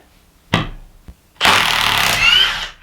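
A Milwaukee M18 Fuel 1/2-inch mid-torque impact wrench with friction ring removes a 3-inch bolt on setting 4, a single clack and a faint tap, then a loud, close, rattling hammering burst of about a second and a half.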